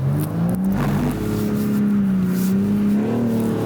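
A BMW M4 engine in a driving video game roars at full throttle, a steady loud drone that climbs slightly in pitch as the gas is held down, with no talk over it.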